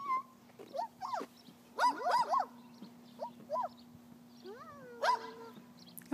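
A dog whimpers and whines in a series of short, high, pitched yelps, close by against a faint steady hum.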